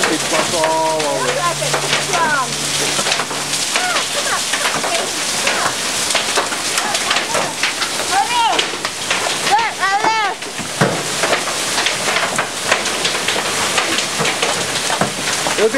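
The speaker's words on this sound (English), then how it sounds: "It would be a nice rain if it wasn't for all the hail." Hail and heavy rain pound a car and the ground around it during a hailstorm, a dense, steady patter throughout, with people talking and calling out over it.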